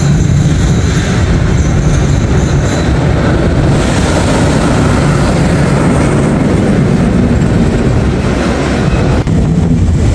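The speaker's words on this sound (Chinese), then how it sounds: "火车开动了。" A slow passenger train pulling away, loud continuous rumbling and clatter with wind noise, no voices.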